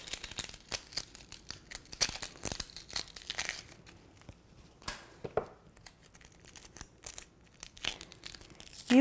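The papery outer layer of an onion is peeled away by hand after cutting, making soft dry crackles, tears and crinkles in irregular close bursts.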